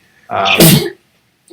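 One loud, close human sneeze with a sharp build and burst, followed by silence and the start of a voice.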